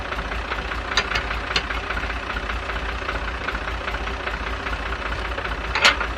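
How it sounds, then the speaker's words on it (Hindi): A tractor engine rumbles steadily and fairly close on a village farm track, a low idling chug with a few sharper knocks and clatters over it. "ट्रैक्टर हमारा पीछे आ रहा है।"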